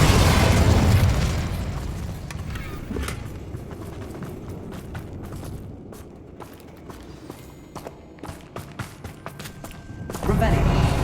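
In the Hogwarts Legacy video game, an Incendio fire spell is cast with a loud, booming burst. Softer crackles and footstep-like clicks follow, and another heavy rush of sound comes near the end.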